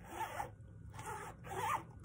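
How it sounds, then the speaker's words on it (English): Zipper on a vintage Franklin Covey Aurora planner pulled back and forth three times in quick, smooth strokes, close and fairly quiet, with no talking. "the zippers are very stiff. So they don't go back and forth like this one is effortless."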